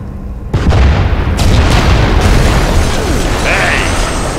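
Missile strike explosions in the Gears of War video game, a heavy boom followed by a long, loud rumbling roar of blasts and debris, close and dense, with voices faintly underneath.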